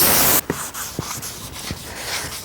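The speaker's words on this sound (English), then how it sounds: "spray some brake cleaner on here and take the manufacturing oil off of here" Brake cleaner is sprayed from a can onto a Ram 1500 brake drum to strip off its anti-rust oil. A loud hiss opens the sound and cuts off abruptly, followed by a few short spray bursts and rubbing noises, close up.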